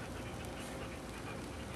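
A dog pants steadily and close by in an indoor setting, the quick breathy rhythm running evenly and fairly loud throughout with no talking.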